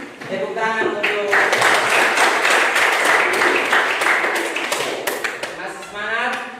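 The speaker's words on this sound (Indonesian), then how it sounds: "Tepuk tangan untuk" A classroom audience breaks into a dense burst of clapping during group presentations. The clapping fills the middle seconds loudly, and a voice speaks just before and after it.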